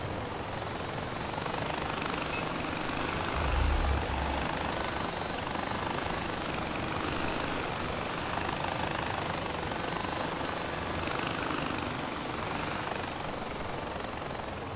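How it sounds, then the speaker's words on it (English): Helicopter flying through strong wind in the video game Far Cry 4, a steady broadband rotor and engine roar mixed with gusting wind noise, continuous and fairly loud throughout with no talk. "It's very windy, so wind can take your helicopter."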